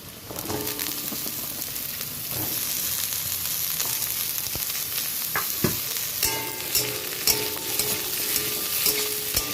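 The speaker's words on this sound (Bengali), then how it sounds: "কেটে রাখা আলুগুলো দিয়ে দিচ্ছি এই পেঁয়াজের মধ্যেই" Cut potatoes sizzling and frying with onions in a pan for an okra dish, with steady crackling spatter and occasional stirring scrapes and clinks throughout.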